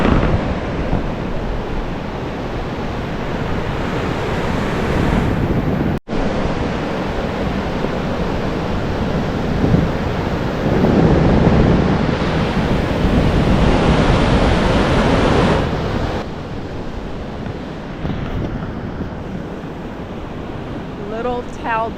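Ocean surf rolls steadily onto the shore at Talbot Island State Park in the early morning, a loud continuous wash of breaking waves with heavy wind buffeting the microphone.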